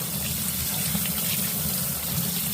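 A tumbler is rinsed under a running tap after pre-polish grit and media, producing a steady, close, full rush of splashing water that continues without a break.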